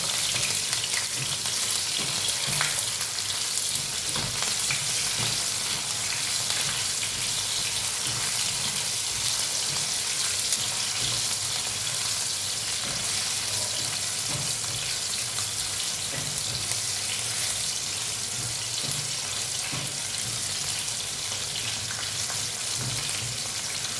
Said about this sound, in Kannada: ಒಂದು 4 ಒಣಮೆಣಸಿನಕಾಯಿ ಸ್ವಲ್ಪ ಫ್ರೈ ಮಾಡ್ಕೊಳ್ಳೋಣ